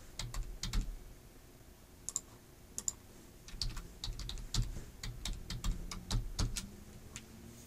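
Typing on a computer keyboard while entering an email address and creating a password for an ID.me account, with irregular bursts of quick clicking keystrokes, moderately close and alone.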